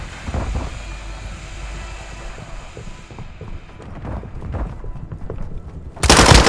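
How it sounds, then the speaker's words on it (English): Gunfire in Call of Duty: Modern Warfare II, rapid clattering mechanical bursts of shots over a continuous battlefield din, getting louder in the final half second. "You are taking effective fire."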